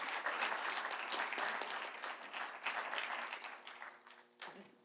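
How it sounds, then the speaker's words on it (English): An audience at an evening lecture gives a sustained round of applause, dense and steady clapping from many hands that slowly thins and fades toward the end, heard from a moderate distance. "may I have one more round of applause, please, for Nadine and Eric and our esteemed guests"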